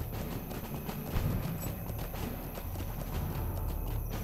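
A horse's hooves clip-clop steadily in the video game Lord of the Rings Online, a rapid even gait over a constant background of game ambience.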